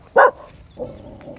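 A protective dog gives one sharp, fairly close bark, then a low, softer vocal murmur follows.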